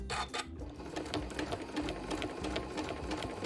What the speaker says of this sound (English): So this is, again, pretty straightforward stitching